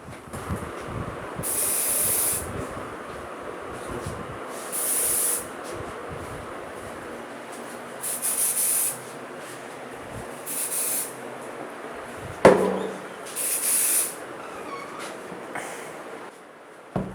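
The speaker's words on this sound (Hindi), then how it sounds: "अब ऐसा है कि हम नाज़रीन फ्रेगनेंस का यूज़ कर रहे हैं, खुशबू का" A fragrance spray bottle is pumped in repeated short hissing bursts, about six spaced a few seconds apart, over steady background noise with a louder knock near the end.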